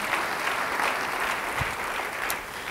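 A church congregation claps during a sermon, a steady, dense ripple of applause filling the room at an even level, with a brief low thump partway through.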